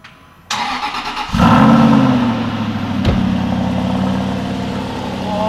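A 13-year-old Aston Martin V8 Vantage Roadster starts up on a cold day: a starter click, then the V8 catches with a loud bark and settles into a deep, rumbling idle close by.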